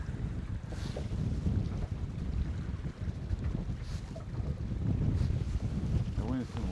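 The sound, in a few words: wind blowing over a fishing boat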